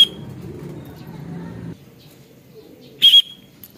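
Pet pigeons flying overhead outdoors, with soft low murmuring and a wash of wingbeat-like noise early on, then a couple of brief high whistling calls near the end; a person talks faintly in the background.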